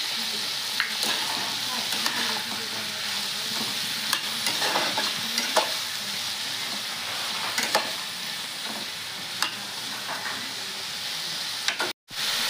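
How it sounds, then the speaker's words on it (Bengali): Green banana and shrimp frying together in a pan, a continuous close sizzle punctuated by intermittent scraping and tapping stirs, cutting out briefly just before the end. "কাঁচকলা মাছ সব একসাথে ভাজা হয়ে যাবে।"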